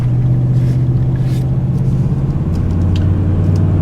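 A Mazda MX-5 race car runs flat out in third gear on a track, its engine a loud, steady low drone with sustained tonal hum and wind noise, close and continuous with no speech.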